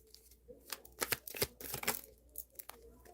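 A deck of cards is shuffled in several quick riffling bursts separated by short pauses, heard close up with no talking.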